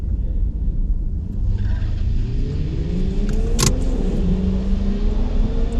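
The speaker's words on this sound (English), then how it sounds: "getting set for the burnout" A Revo Stage 2 tuned car doing a burnout before a quarter-mile drag run, with a loud, continuous engine roar and rising revs that sweep upward over several seconds, plus a brief sharp squeal partway through.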